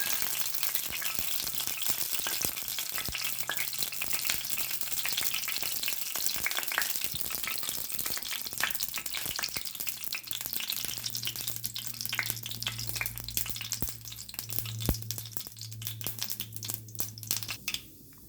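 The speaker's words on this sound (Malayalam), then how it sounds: "കടുക് പൊട്ടി വന്നിട്ട്" Mustard seeds spluttering in hot oil on a gas stove for cheera thoran, a dense close crackle and sizzle with sharp pops throughout, a low steady hum under the later part, and no talking.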